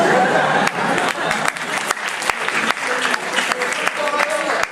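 Sustained applause from a lecture hall audience, a thick, even roar of clapping hands that stays loud throughout with a few sharper individual claps standing out and faint voices mixed in.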